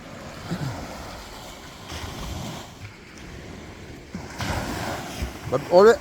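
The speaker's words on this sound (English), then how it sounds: "But always coming down to the beach and listening to the sound of the waves." Ocean waves washing onto the Icacos shoreline beach at morning, soft surging swells rising and receding with wind gusts, louder surf toward the end.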